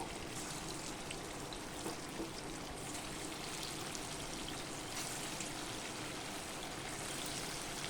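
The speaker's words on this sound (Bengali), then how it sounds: "তেল গরম হয়ে আছে আমি একে একে বল" Jackfruit kofta balls frying in hot oil, a dense, steady hiss of bubbling oil that holds evenly throughout with no talk.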